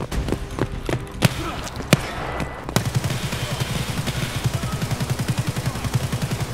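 Gunfire in the shooter game Escape from Tarkov: a few separate loud shots, then a rapid, steady automatic burst that keeps going to the end, with faint voices underneath.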